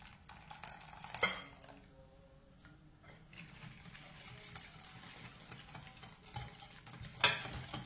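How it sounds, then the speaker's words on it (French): A whisk works lemon cream in a saucepan, quiet scraping and stirring with two sharp metal clinks against the pan, faint and close with no talking. "Je viens fouetter tout ça ensemble"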